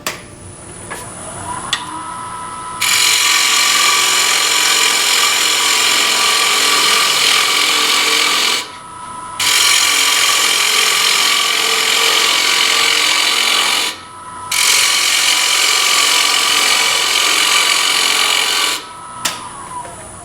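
A bowl gouge cuts the rim of a wooden bowl spinning on a lathe, giving three long, loud, steady hissing cuts, each ending in a brief pause, with no talk.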